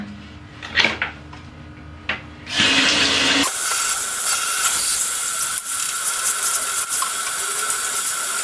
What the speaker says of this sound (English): I watered all 3 plants, and I tried to put some extra water on the leaves